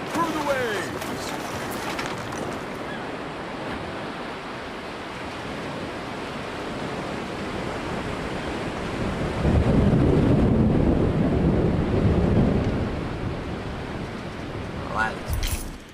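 Roaring ocean surf and gusting wind from the weather effects of the Roman-era strategy game Anno 117: Pax Romana, a loud, continuous wash that swells heavier in the middle before easing, with a brief sharper hit near the end.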